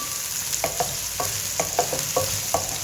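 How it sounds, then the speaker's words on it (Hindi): Onions and okra fry in hot oil in a pan, a steady sizzle with repeated scraping stir strokes clicking through it, close and alone with no talk. "ऑयल डालेंगे थोड़ा सा, जिसमें हम अपने प्याज और भिंडी फ्राई करेंगे"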